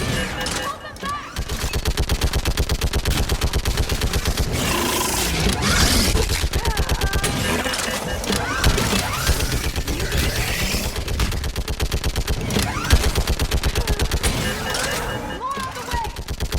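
Rapid bursts of gunfire in Mass Effect 3 during a battle on Thessia, dense, continuous and loud, with voices talking over the shooting.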